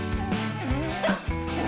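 A cartoon dog in the video game Indigo Park gives short yips and bow-wow barks mixed with whimpering, close and clear, with a voice talking over parts of it.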